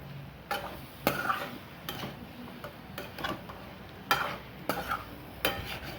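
Green chilli paste stirred into a taro root curry in a pan: low sizzling under repeated sharp spoon taps and scrapes against the pan, close up and without talk.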